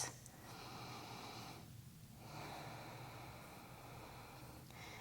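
Slow, airy breathing held through a yoga pose: a long, soft breath, a brief pause, then another drawn-out breath, faint and close with no talking.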